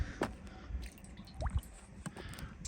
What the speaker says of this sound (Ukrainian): Наливаємо 150 грам олії.